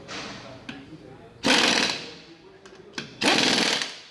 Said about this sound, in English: Make sure the impact's going the right way.